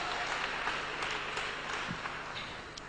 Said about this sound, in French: say amen and clap to God.